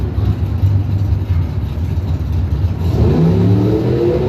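Drag cars at a drag strip, a loud close engine roar holding steady, then climbing in pitch as the revs rise sharply toward the end.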